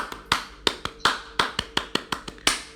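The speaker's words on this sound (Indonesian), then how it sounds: "Tepuk pramuka dong." The Pramuka scout clap: about a dozen crisp, close hand claps in a patterned rhythm, with short pauses between groups and no talking.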